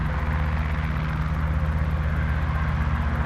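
A Cabri G2 helicopter in X-Plane 11 with its rotor turning below optimum speed, a steady close engine-and-rotor drone with low pulsing hum running unbroken throughout, no voices over it.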